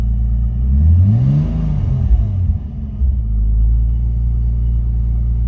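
Nissan Skyline R33 engine idling with a slight misfire, a loud close low rumble that swells briefly as if blipped and then settles unevenly, with no talking.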